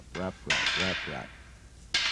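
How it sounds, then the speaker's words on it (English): Two arnis double sticks strike each other during a wrap drill. The strikes sound as a loud clack followed by a long ringing wash, and a second sharp hit comes near the end. Voiced pulses appear early in the clip. "One weapon behind the other, striking each other."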